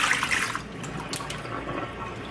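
Cold tap water runs steadily into a sink while raw jumbo shrimp are peeled in a home kitchen, a continuous close splashing hiss with no voices.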